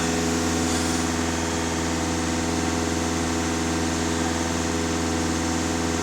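Volkswagen Passat 2.0 TDI diesel engine idling, a steady even mechanical hum with a low rhythmic throb and no talking over it.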